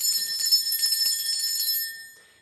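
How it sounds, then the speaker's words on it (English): A small handheld bell is struck once near the start and rings out as a loud, shimmering high tone that sustains for about two seconds before fading away. "Let me just ring this bell. This is just to cleanse the space."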